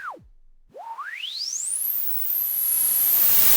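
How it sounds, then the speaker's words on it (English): A clean synthesized pitched tone dips low, then glides steadily upward into a high, piercing whistle that holds near the top, heard alone and fairly loud. "we're getting the defined, more pitched tones up here"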